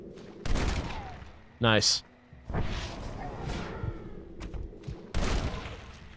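Gunfire against zombies in the video game Undead Nightmare: a few loud, sharp shots burst out among game noise, with people talking and reacting over the action.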